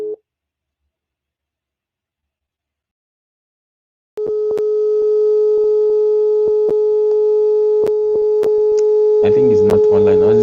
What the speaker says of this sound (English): I think when it's ringing like that, it means it's not.